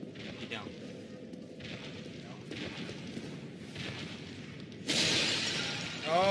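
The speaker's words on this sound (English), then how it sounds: "Oh, pot smashing action." Clay pots smash in the video game Uncharted 2, with repeated crashing and breaking bursts under ongoing game sound and a loud, sustained noisy burst near the end, while people talk over it.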